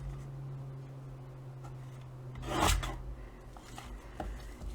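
A paper envelope being cut square, a soft scraping slice of blade through paper that swells briefly in the middle before fading, with faint handling rustles around it.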